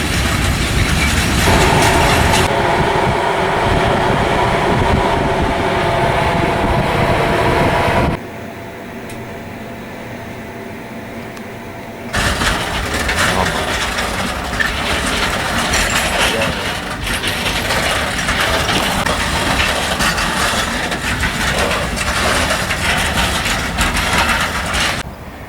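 A train stands at a station in the Balkans, its engine and machinery rumbling loudly and steadily, briefly dropping to a quieter hum in the middle before the heavy noise returns.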